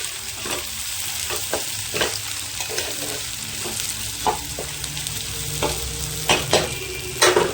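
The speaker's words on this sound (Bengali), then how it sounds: "পেঁয়াজটা ভালো করে ব্রাউন করে ভেজে নেবো" Onions fry in a pan until browned for a mutton brain bhuna, a continuous sizzle broken by irregular scraping stir strokes, some louder, close by.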